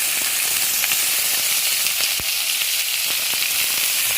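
Whole onions frying in plenty of oil, a loud, dense, continuous sizzle and hiss up close, with a few sharp pops and crackles.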